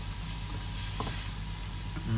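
Onions sautéing with garlic and peppers in a pan for fried rice, a continuous soft sizzle and hiss held at an even level, with a faint tap or two from the pan.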